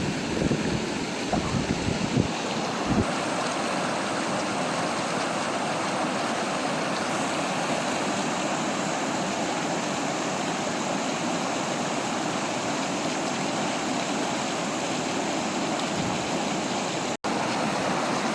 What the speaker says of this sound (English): The falls seems to be a double falls.